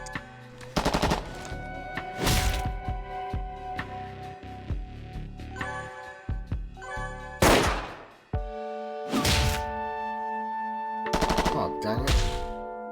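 Gunfire in the Long Gone Days game rings out in several sharp bursts, single shots and rapid volleys spaced irregularly across the stretch, loud and close over a tonal game soundtrack.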